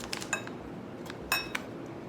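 A metal tablespoon clinks against a dish while scooping milk thistle powder, two bright clusters of taps a second apart, close and fairly quiet with no talking.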